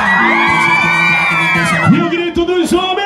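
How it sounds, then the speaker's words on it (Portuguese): Women in a festival crowd at a night event scream and whoop together loudly and close, with overlapping high shrieks and yells that swell and break into bursts. "Quero ver o grito das mulheres."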